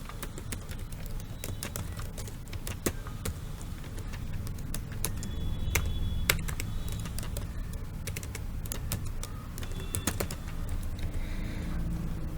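Keys clatter on a computer keyboard while a Microsoft Excel marksheet is being filled in: an irregular run of quick, close clicks and taps over a low steady hum, with no one speaking.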